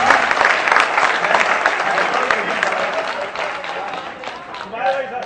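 Audience applause at a Hindi comic poetry gathering held for a Maharaja Agrasen Jayanti festival, dense and loud at first and easing off toward the end, with a voice heard over the clapping.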